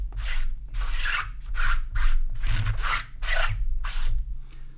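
Squeaky rhythmic rubbing as an ink chamois scrubs a rubber stamp clean, about eight short strokes close up over a low steady hum.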